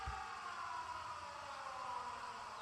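An air-raid siren wails in 13 Sentinels: Aegis Rim, a steady sustained tone that slowly drifts lower in pitch over a low rumble, fairly quiet and with no voices.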